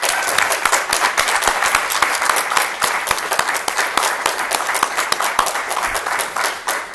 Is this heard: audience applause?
yes